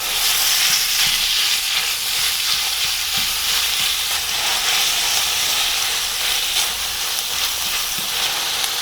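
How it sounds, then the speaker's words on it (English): Minced pork stir-frying in oil, a steady loud broadband sizzle with continuous hiss and occasional scraping stirs, close and uninterrupted throughout. "Then I add all minced pork"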